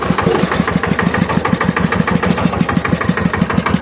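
A tractor engine runs steadily nearby, thumping in a fast, even rhythm with a gruff, loud idle-like chug throughout.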